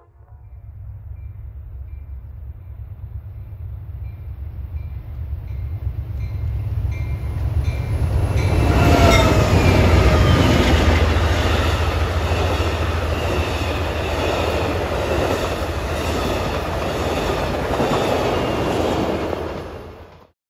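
Amtrak's California Zephyr passenger train rumbles in from afar near Cisco, Utah, grows loud as it rushes past with clattering wheels and a high squeal, then carries on steadily.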